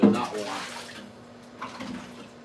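Water splashes and gurgles as it is bailed out of a 75-gallon aquarium by scoop; a loud slosh opens, then a quieter trickle and a second small splash follow.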